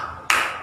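A single sharp hand clap rings out near the middle, close and fairly loud, during a children's clapping song; no steady rhythm follows within the moment.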